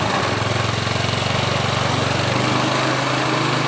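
A Honda Beat motorcycle engine, converted from fuel injection to a carburetor, idling steadily close by, with a rapid, even putter and a slight pulsing rhythm throughout.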